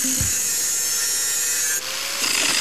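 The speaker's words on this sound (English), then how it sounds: "then grind it off" Power grinder dragging across a crooked edge during a home handyman job, a steady loud whine with a high-pitched rasp that holds throughout, then shifts pitch near the end as the tool eases off.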